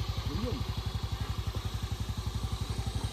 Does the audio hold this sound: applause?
no